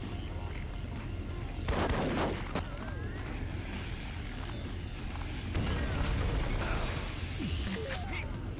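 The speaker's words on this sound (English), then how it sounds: "you can also charge Pulse Cannon." Charged Pulse Cannon shots from the video game Duke Nukem: Manhattan Project, with booming, gunfire-like bursts near the 2-second and 6-second marks over a constant background of game sound effects.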